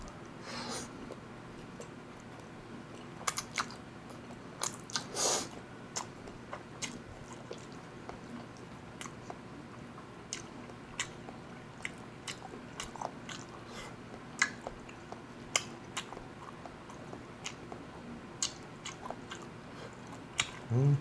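Someone eating cream pasta with pine mushrooms, with soft close chewing and a few sharper bites and slurps scattered through a quiet room, no talking.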